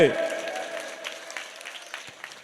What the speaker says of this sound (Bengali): আমাদের রফিকুল ইসলাম তার জন্য কি হাততালি হবে